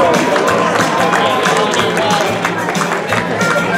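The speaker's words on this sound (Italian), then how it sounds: "facciamo un po' di applausi a questi ragazzi" Applause and crowd noise for young gymnasts at an outdoor gymnastics exhibition in Meda, a steady busy wash of clapping and voices filling the whole stretch, loud and close.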